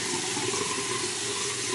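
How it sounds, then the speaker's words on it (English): Tap water running steadily over a makeup brush to rinse out leftover soap, a close, continuous hiss of flowing water in a sink with no talk. "Just rinsing out the soap. Because there's still a little bit of soap in it."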